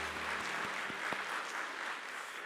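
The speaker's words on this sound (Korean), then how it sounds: "하나님께 영광의 박수 한번 더 올려드리겠습니다." Congregation applauding during a church worship service, a continuous even wash of clapping filling the room at moderate level, with a few brief low tones underneath.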